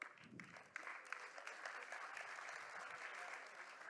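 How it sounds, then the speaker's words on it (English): Audience applause at a bluefin tuna cutting show at a food event, a steady wash of many hands clapping that runs evenly throughout, moderately distant and without talk over it. "A round of applause for Jamal and Joanne."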